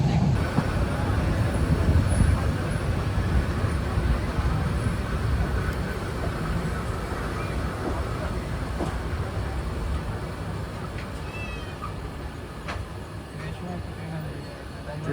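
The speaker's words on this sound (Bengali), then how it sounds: "ট্রেন তো আউটেই স্লো করে দিল, তো সিগন্যালের জন্য দাঁড়ায় আছে।" A passenger train travelling through hilly countryside toward Cox's Bazar rumbles steadily from inside the carriage. The dense, continuous noise eases slightly over the stretch as the train slows.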